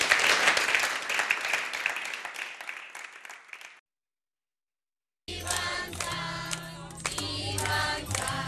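A studio audience at a TV music show applauds in dense, bright clapping that fades out, followed after a short silence by music.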